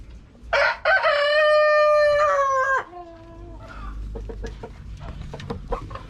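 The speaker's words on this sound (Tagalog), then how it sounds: "yan yung mga alaga kong manok" A rooster crows once, long and loud up close, followed by a scatter of short hen clucks and chatter.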